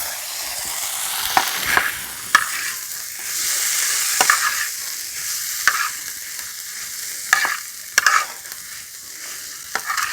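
Vegetables stir-fried with a little soy sauce sizzle softly in a pan while a spatula scrapes and tosses them in irregular clattering strokes.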